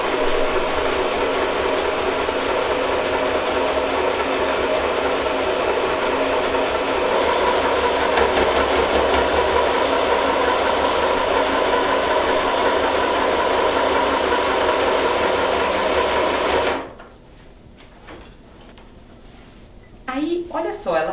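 Sewing machine stitching a seam on a double-sided fabric ecobag, a steady close mechanical whir running continuously for about seventeen seconds, then stopping abruptly and leaving quiet handling noise.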